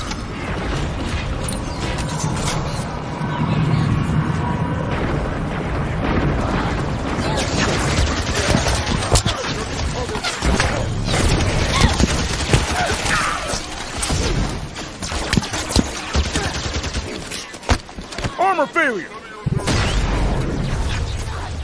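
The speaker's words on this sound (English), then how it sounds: "Let the guns talk, Osiris" Video game gunfire in a shooter, with repeated shots, booms and crashes running loud and dense throughout, mixed with game voices and other combat effects.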